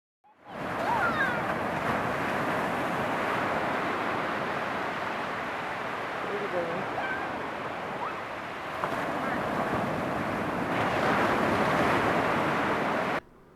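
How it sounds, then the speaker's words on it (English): Ocean waves curl and break onto the beach at Myrtle Beach, making a steady broadband roar with wind buffeting the microphone. The surf is loud and continuous for the whole stretch, with slight swells in intensity and no voices. "we made a video clip of the waves curling onto the beach"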